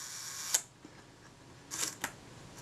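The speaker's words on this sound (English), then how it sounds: "Now if I cock the shutter, it should work on B." Kodak Retina IIa camera shutter firing on B setting: a sharp click as it opens, then after about a second two quick mechanical clicks as it closes, quiet and close with no talk.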